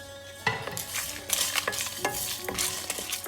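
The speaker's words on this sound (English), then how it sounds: "So let me just dry roast them first." Cinnamon stick, peppercorns, star anise and dry red chilies are dry roasted in a pan, with a spoon stirring and scraping in uneven strokes and a faint crackle underneath, close up and without talk.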